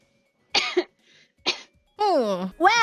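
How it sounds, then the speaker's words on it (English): A recorded baby's cough plays back in a few short, sharp bursts, close and fairly loud, followed by a higher, voiced cry-like sound. "staff submitted a coughing baby"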